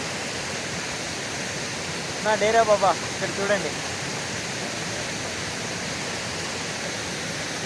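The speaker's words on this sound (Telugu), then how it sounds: "ఈ వాటర్ఫాల్ ఫ్లో ఎలా ఉందంటే" Steady broadband rush of muddy, rain-swollen water pouring down Madhugiri falls, filling the whole stretch without letup; a voice speaks briefly over it partway through.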